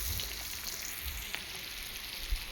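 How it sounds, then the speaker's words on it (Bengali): Sliced onions fry in a pan of oil for a dried-fish dish, giving a continuous even sizzle with faint crackle throughout and no voices. "পেঁয়াজটা ভেজে নিচ্ছি।"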